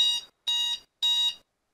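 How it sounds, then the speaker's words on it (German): A timer alarm gives three evenly spaced electronic beeps, each lasting about a third of a second with short silent gaps between them, sounding clear, close and alone. "Und das war mein Timer."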